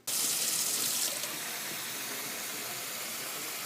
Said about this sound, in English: Now we'll fill the pan up,